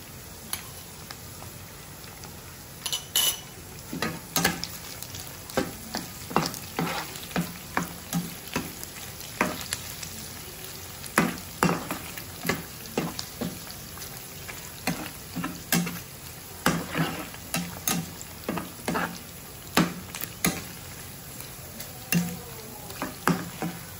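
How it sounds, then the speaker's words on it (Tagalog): Sausage sizzling and crackling in a frying pan at breakfast, a steady bed of frying noise broken by frequent sharp pops and spits spread through the clip, close and moderately loud with no talking. "nagbabrown na yung ating sausage"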